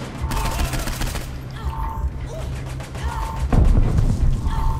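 Rapid automatic gunfire in Saints Row 4 during an alien invasion, sustained bursts of shots rattling steadily and loudly, with a heavier thump near the end, over game ambience.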